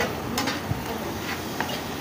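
Ground spices, including turmeric and coriander powder, are stirred and mixed in a pan. Soft scrapes and occasional light taps sit over a low, even sizzle.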